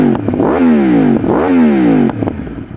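A Yamaha R1 motorcycle with an aftermarket exhaust system and titanium mid-pipe revs twice close up, each rise a deep grumbling climb that falls away, then settles toward idle.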